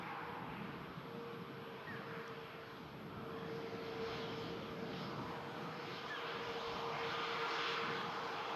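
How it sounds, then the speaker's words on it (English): An Airbus A320neo jet at Manchester Airport gives a faint, steady engine roar that swells slightly toward the end, with a thin whining tone running through it and no voices. "An Airbus A320neo, this."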